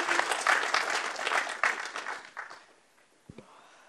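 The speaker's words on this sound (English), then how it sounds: "I think you should give him a clap." Wedding guests at an open-air chapel on a lavender farm clap, a brisk round of applause that fades out after about two and a half seconds, followed by a couple of isolated thumps.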